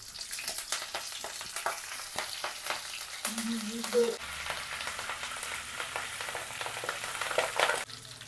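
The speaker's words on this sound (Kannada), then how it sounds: "ಜೀರಿಗೆ ಸಾಸಿವೆ ಹಾಕೈತ್ರಿ ಇವಾಗ ಫಸ್ಟ್ ಕ್ಲಾಸ್ ಕರಿಬಿ ಹಾಕೊಂಡು ಚಟ್ರ ಪಟ್ರೆ ಚಟ್ರ ಪಟ್ರೆ ಅಂತೈತೆ" Cumin, mustard seeds and curry leaves crackling in hot oil, a quiet close sizzle dotted with sharp pops and a brief spatula scrape, with faint background sounds and no clear speech.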